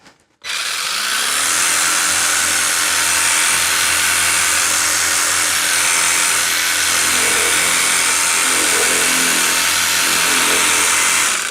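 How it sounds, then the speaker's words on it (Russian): A steady, loud hiss of spray from a Heimerdinger LB131 pressure washer hits a car body without pause, after a brief quiet start. "Надеюсь, вам звук удара о корпус машины воды слышен."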